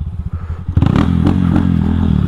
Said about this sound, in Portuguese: a moto tá muito torcuda